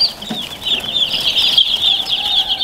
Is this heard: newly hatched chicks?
yes